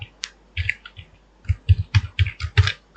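Irregular bursts of keystrokes on a computer keyboard while writing HTML code, close and crisp, coming in quick clusters with short pauses, no voices.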